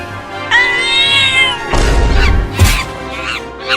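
Cat meowing loudly and close, one long rising-falling meow followed by shorter harsh cries over a busy background.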